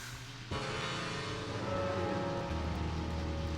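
Steady rain in the video game Deadly Premonition, a dense continuous wash of falling water that swells louder after a moment, with a low engine-like hum beneath and no talking.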